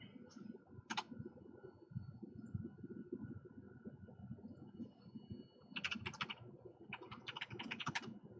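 Keys clatter on a computer keyboard while setting up an Arduino UNO, a quiet steady patter of typing with a few sharper clicks and short bursts near the end.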